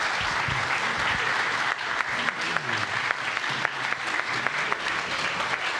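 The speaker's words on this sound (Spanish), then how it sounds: "Por favor, un aplauso para los distinguidos expositores." Audience at a conference on import and export of goods applauds the speakers with steady, dense clapping throughout, a voice briefly audible at the start.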